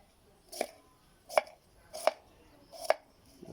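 Four sharp knife chops through onion and kaffir lime on a cutting board, evenly spaced about a second apart, close and clear with quiet pauses between.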